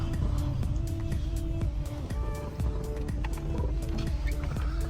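A car idles and rolls slowly near a storage facility gate, a loud low engine rumble with tonal whine and repeated clicks throughout, no clear speech.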